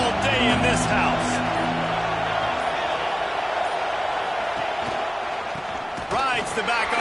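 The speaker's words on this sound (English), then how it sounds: "This crowd trying to show them what it's going to be like all day in this house." Loud home crowd roaring and cheering in a basketball arena, a dense sustained wall of voices with scattered whoops, an announcer talking over it.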